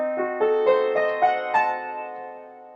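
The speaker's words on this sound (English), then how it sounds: "Now if we play it over 2 octaves, it sounds like this." A fully diminished seventh chord played slowly over two octaves, its notes entering one after another in a steady rising sequence and ringing together into a sustained, fading harmonic chord, alone with no talking.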